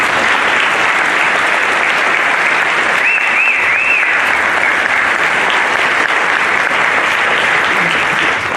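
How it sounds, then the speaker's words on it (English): An audience at a high school class day ceremony gives students steady, even applause that fills the room from start to finish, with a short whistle rising out of the clapping midway through. "Let's give these students a round of applause."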